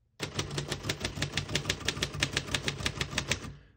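Rapid, steady keystrokes clatter on a 1948 Royal Arrow portable typewriter, each sharp mechanical strike close and distinct in an even rhythm of roughly five per second, with no voices.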